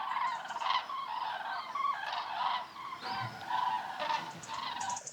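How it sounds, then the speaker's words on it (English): Migrating cranes flying south pass over a château in the French countryside, their rolling, trumpeting calls overlapping steadily at a moderate distance against wind. "The cranes were just passing over the château."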